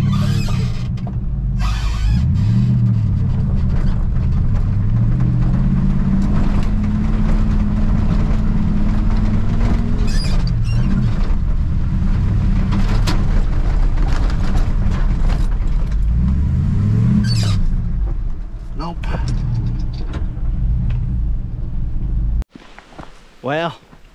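A two-wheel-drive Chevy C20 pickup truck's engine revs hard in second and third gear as it strains to climb a wet hill in the rain, its pitch rising and falling in loud, labored surges before cutting off abruptly near the end.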